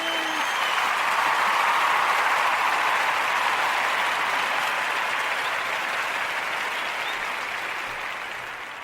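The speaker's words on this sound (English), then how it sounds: "Let me give it a round of applause." A studio audience applauds the 500th episode of a morning talk show, dense sustained clapping that holds steady and slowly tapers toward the end.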